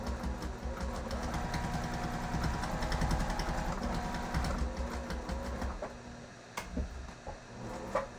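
A sewing machine stitches steadily across a mitered corner at a 45-degree angle, a close, rapid mechanical whir and ticking that slows near the end before a few short final stitches.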